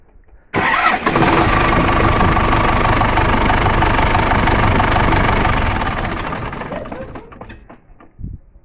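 A D-245 diesel engine cranks and catches abruptly, then runs loud and steady for about five seconds before slowing and dying away, followed by a brief knock near the end.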